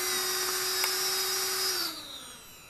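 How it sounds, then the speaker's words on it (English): Small quadcopter motors on a CC3D flight controller whine steadily and loudly, then their pitch slides down as they drop to idle, settling into a quieter hum with no talk. "the motors go down to basically idle position"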